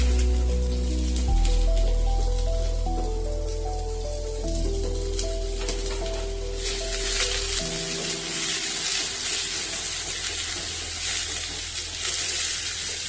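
Long-sliced shallots sautéing in hot oil in a pan for a Kerala-style clam fry, giving a steady, close, rain-like sizzle over a soft background music bed, with no talk.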